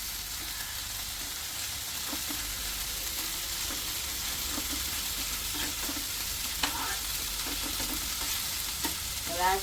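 Garlic and fenugreek curry frying in oil on a griddle, a continuous soft sizzle and crackle with occasional stirring scrapes, fairly quiet and close, with no talk.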